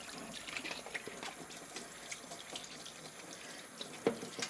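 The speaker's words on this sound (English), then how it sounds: "Let that run under just lukewarm water." A tap runs lukewarm water over a sheet of clear vinyl in a sink, a steady, soft hiss and splatter with small splashes and a brief clunk near the end.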